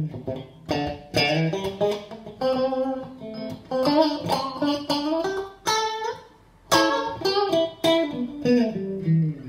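Chords and picked phrases ring from a 1983 Tokai Strat electric guitar set to pickup position two, with a close, full, slightly quacky tone, repeated strums and short pauses between bursts.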